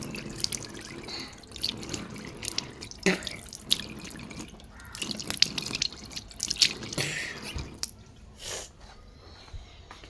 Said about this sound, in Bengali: চলেন মুখটা ধুয়ে নেই।